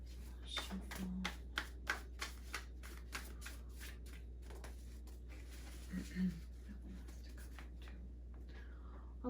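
A deck of cards, apparently tarot-style, is shuffled by hand in a quiet room: a run of quick riffling taps and soft slaps in bursts, fairly close, over a low steady hum.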